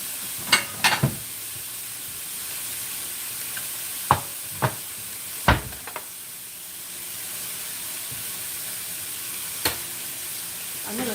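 Meat sizzles steadily in a pan alongside onions and peppers for a Philly cheesesteak, a constant close frying hiss broken by a few sharp clacks of a utensil stirring and tossing.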